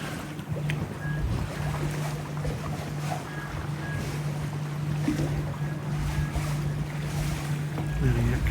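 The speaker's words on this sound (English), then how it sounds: "Tug's reversing out." A tugboat reversing out in a harbour, with a low, steady engine drone under strong wind buffeting and water noise.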